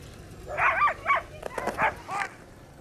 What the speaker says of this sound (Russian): откуда будут сегодня стартовать спортсмены-каюры на своих собачьих упряжках